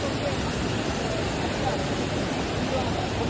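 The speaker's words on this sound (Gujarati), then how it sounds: "નદી હે જ ભાઈ નીચે" Steady broadband rush of the Yamuna river flowing below a mountain trek path near Yamunotri, loud and continuous with no breaks, like nearby rushing water.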